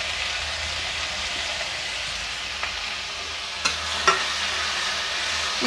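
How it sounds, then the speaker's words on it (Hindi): Grated onion frying in oil in a handi, a steady broadband sizzle with a couple of brief utensil clinks near the end. "इसमें हम ये प्याज जो कद्दूकस करके डाल रखे थे वो डाल दिए हैं।"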